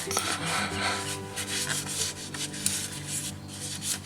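Close, continuous rubbing and scraping as an oil filter is turned by hand onto a 2017 Ford F250 Super Duty Power Stroke diesel, a steady gritty friction sound with slight rhythmic swells and no talk.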